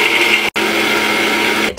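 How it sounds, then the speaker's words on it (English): A blender grinds dehydrated spot prawn shells into fine powder with a loud, steady motor whine, pausing for a split second near the middle before carrying on at full strength. "I'm just gonna put it in my blender."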